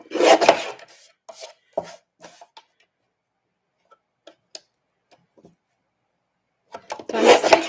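Paper trimmer slicing a quarter inch off each side of patterned card stock for handmade cards: a loud rasping cut at the start, scattered light taps and clicks through a quiet middle, then another strong cutting swipe at the end.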